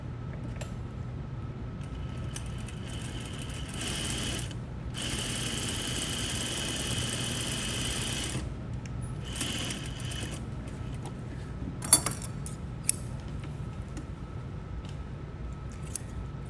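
A sewing machine stitches a seam for boning casing, a steady whirring run of several seconds with short bursts before and after, followed by quieter handling clicks.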